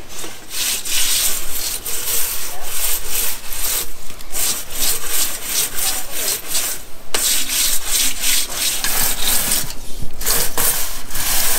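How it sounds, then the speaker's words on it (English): Brush scrubbing inside a chimney flue: continuous loud, rhythmic rasping strokes, back and forth without pause, harsh and close. "We're gonna scrub this out and see if we can get it better."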